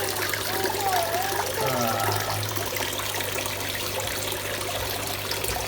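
Water trickles and splashes as koi, including Tancho and Kohaku, are let go into a pond with murky water, a steady close wash of liquid running under voices talking.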